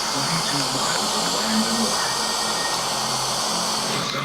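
Steam hisses continuously as a guitar fretboard is steamed loose from the neck, a broad, steady, fairly loud jet close by.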